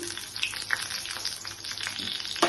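Cumin seeds and two dried red chillies frying in ghee, a soft continuous sizzle and crackle close up with faint spatters and a small clink near the end.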